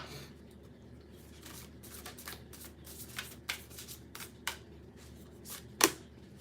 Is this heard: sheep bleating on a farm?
no